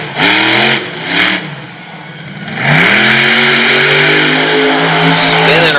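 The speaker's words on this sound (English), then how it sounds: "Mark Hall out of Champaign, Illinois, in the big Raminator. Hemi-powered Ram truck." Raminator, a Hemi-powered Ram monster truck, revs hard at a monster truck competition in Sarver, Pennsylvania: two short loud blips, a brief dip, then a long sustained climbing roar, close and dominant.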